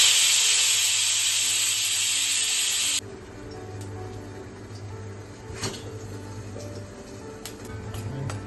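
A pressure cooker cooking chickpeas lets out a loud, steady hiss of steam for about three seconds, then cuts off abruptly, leaving quieter kitchen hum and a few small clicks.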